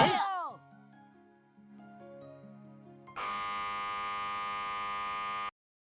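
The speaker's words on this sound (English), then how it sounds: "Extremely loud, incorrect buzzer noise." A loud, harsh incorrect-answer buzzer sounds for about two seconds as a flat, raspy tone that cuts off abruptly, preceded by a sweeping chime and short electronic melody.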